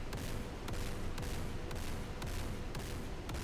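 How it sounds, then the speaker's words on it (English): A missile launch heard from an AH-64D Apache in DCS World: a faint, steady roar carries a regular series of sharp cracks, about two per second, running throughout, with no talk. "Missiles are being launched."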